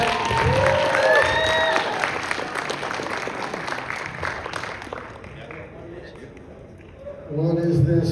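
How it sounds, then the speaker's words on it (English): A convention panel audience claps and cheers loudly, the applause gradually fading over several seconds, with voices calling out over it. "Big round of applause one more time"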